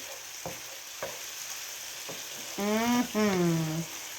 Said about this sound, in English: Get a nice little brown on them in that brown butter.